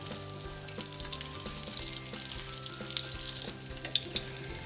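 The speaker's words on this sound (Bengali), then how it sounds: "এখন আমি ভালো মতো করে ভেজে নিই কোফতাগুলো।" Malai koftas sizzle steadily in hot oil in a home kitchen pan, a dense crackling hiss with faint bubbling and occasional louder pops, close and continuous without talk.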